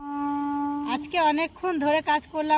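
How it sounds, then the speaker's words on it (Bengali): Mosquitoes buzzing in a village at evening, a steady close whine heard alone for about a second before a person starts talking over it. "মশার ভন ভন ভন ভর আওয়াজ শোনা যাচ্ছে"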